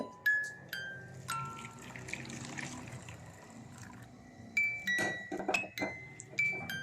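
Finished mango curry being moved into a separate bowl, with clinks of a spoon and dishes against the bowl and pot, some scraping in between, fairly close and without talk.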